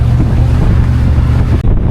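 Boat under way toward Koh Larn island off Pattaya, a steady low engine drone mixed with wind buffeting the microphone and rushing water, loud and continuous with a brief dip near the end.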